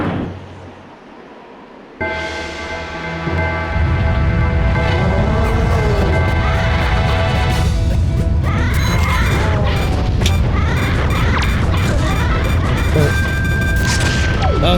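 A bomb set by Tingle goes off in The Legend of Zelda: The Wind Waker, a sudden loud boom near the two-second mark that gives way to a sustained, dense crash and clatter of game sound lasting to the end.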